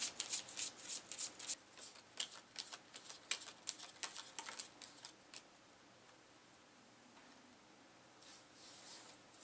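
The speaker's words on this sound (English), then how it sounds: "Once you get a good shuffle, go ahead and lay them." Final Girl killer cards from the Haunting of Creech Manor board game are shuffled by hand in a close, crisp burst of riffling snaps, then a pause and a softer flutter of cards.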